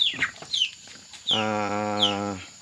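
Broiler chickens in a pen awaiting slaughter give a few short clucks, then one bird lets out a longer, drawn-out harmonic call, close and fairly clear against quiet surroundings.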